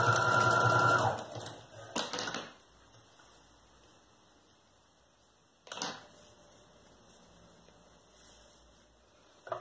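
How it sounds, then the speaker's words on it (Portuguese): A sewing machine runs in short bursts, stitching elastic onto a child's backpack: a loud rattling run at the start, a brief second burst, then a shorter one later, with quiet pauses between. "passo uma costurinha para segurar o elástico"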